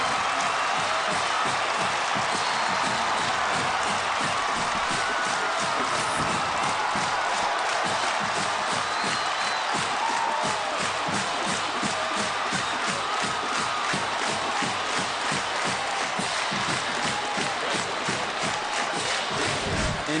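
A stadium crowd roars steadily and loudly for about twenty seconds after a touchdown in the 2009 Michigan at Michigan State college football game, a dense, continuous cheer with no speech over it.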